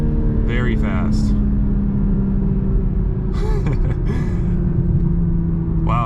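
A 2021 Toyota GR Supra 3.0 makes a loud, steady low engine rumble heard from inside the car, with brief bursts of talking over it.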